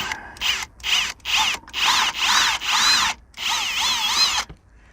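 A power drill whirs in several short bursts with brief pauses between while drilling to install a monitor arm, its pitch wavering as it bites, ending in silence.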